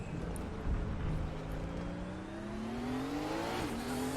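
A Group 5 race car's engine in a VR racing game drones steadily and climbs in pitch as it revs, dips briefly, then rises again at moderate loudness with no talk.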